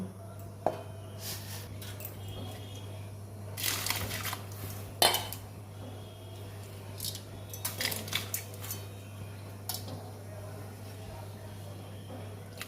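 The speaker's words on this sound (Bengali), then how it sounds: "মসুরির ডালটা ধুয়ে নেব" Red lentils (masoor dal) washed in a kitchen pot, with soft clinks of metal vessels and light splashing in sporadic bursts over a steady low hum.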